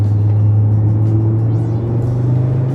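Audi RS3 engine pulling hard at full throttle out of a bend, a loud, steady low drone that rises slightly in pitch toward the end, heard close from inside the car.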